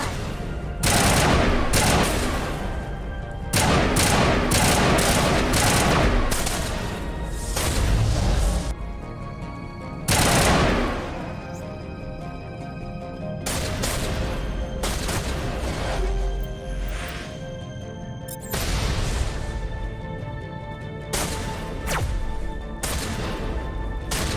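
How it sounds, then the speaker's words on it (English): Enemy gunfire and rockets in the Mass Effect video game: dense, loud bursts of rapid shots and booming blasts come in waves with short lulls, sustained and close throughout. "Are they shooting like rockets at us?"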